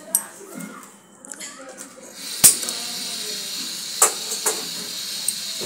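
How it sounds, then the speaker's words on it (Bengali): A kitchen gas stove burner is lit while preparing khichuri: a sharp click is followed by a steady broadband hiss of flowing gas and flame. A few further clicks follow, close and moderately loud. "গ্যাসটা আমি ধরিয়ে দিচ্ছি"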